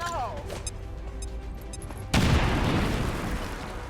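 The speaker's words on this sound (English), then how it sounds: "Oh, it's gonna blow up this wall." A grenade blows up a wall in XCOM 2, one sudden heavy blast halfway through followed by crumbling debris and a fading rumble, after a quieter stretch of game sounds and soft chimes.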